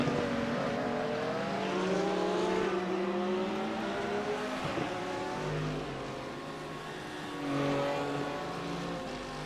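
Porsche GT3 race cars from a racing video game battle at Daytona, engines droning loudly and continuously with shifting pitch as they rev and pass close together, with no talk.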